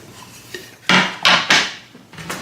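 A cutting board is set down on a kitchen counter during cooking prep, giving a few loud, hard wooden knocks and clatters close by, with no talking.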